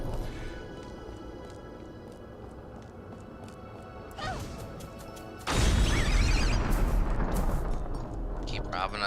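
A walking bomb explodes in the video game Folklore with a sudden loud, sustained roaring blast that follows a brief rising burst, while people talk over the game sounds.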